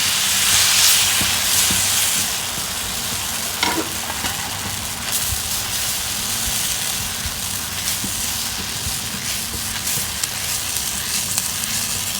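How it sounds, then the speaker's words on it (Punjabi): Sweet flour-and-jaggery pooda fries in oil in a pan with a steady, close sizzle and hiss, a louder burst at the start settling into continuous crackling with a few faint scrapes, no talk. "ਇਸ ਪਾ ਦਾਂਗੇ ਜੀ ਪੂੜਾ"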